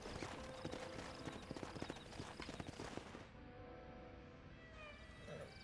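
Horse hooves clip-clop in Red Dead Redemption 2 while breaking horses, a rapid, loud run of hoofbeats for about three seconds before easing into quieter game ambience with faint tonal sounds.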